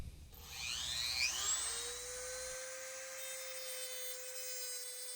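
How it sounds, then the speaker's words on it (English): A Dremel rotary tool grinds down a metal wrench for clearance during brake work on a 1964 VW Bug, giving a high whine that rises in pitch as it spins up, then settles into a steady tone close by. "I'm just using a Dremel tool here to grind off a little bit of the wrench so that I can sneak it in where it needs to go"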